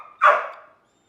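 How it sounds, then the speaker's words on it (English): A pet dog lets out a single short bark indoors in a home kitchen, close and clear, fading quickly into silence. "Excuse my dog asking to go outside."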